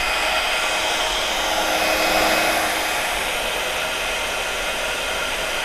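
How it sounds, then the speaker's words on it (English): A craft heat tool melting embossing powder gives off a loud, steady blowing roar like a hair dryer. It runs close and unbroken throughout. "And then let's get the heat tool on this."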